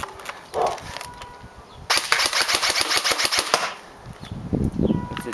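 Dboys SCAR airsoft AEG firing a sustained rapid burst of sharp, clacking shots at close range, preceded and followed by a few single clicks and handling noises.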